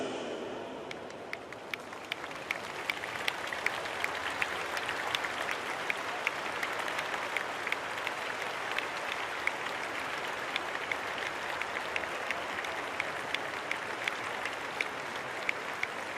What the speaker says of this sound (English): we ask if you are able to please stand for a moment of applause for Rado Vidosic.